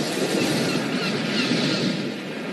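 Continuous broadband wash of surf, a steady hiss of breaking water with a gentle swell in the middle, no voices.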